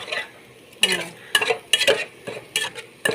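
Thai chili paste is stirred and dry-roasted in a pan, heard as a string of sharp spatula scrapes and clinks against the pan in uneven bursts over a faint sizzle, close and fairly loud.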